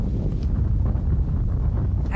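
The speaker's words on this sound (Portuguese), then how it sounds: "Aqui, o vento não dá trégua." Strong gusting wind blows across a beach near Jericoacoara on the Brazilian coast, buffeting the microphone with a loud, continuous low roar and rumble.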